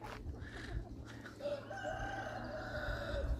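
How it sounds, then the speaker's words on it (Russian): Chickens cluck and a rooster crows nearby at a park in Alanya, Turkey, the birdsound steady over a low hum of outdoor background noise. "Курочки."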